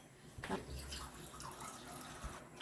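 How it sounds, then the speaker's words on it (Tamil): Water is poured into a cooking pot for avarakkai sambar, a soft, low-level splashing with a short louder gush near the start, heard alone without talk. "இப்போ இதில் ஒரு 2 கிளாஸ் தண்ணி ஊற்றலாம்."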